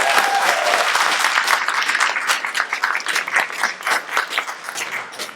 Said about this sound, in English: so round of applause for Michael, everybody.